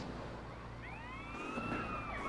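Police siren wailing in GTA San Andreas during a chase, a steady rising and falling tone over a constant engine-like rumble, moderately faint and without speech.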